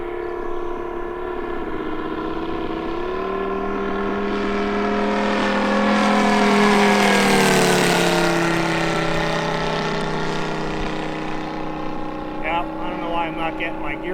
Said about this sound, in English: Got the engine dialed in a little bit, and it sounds like I need to just turn up the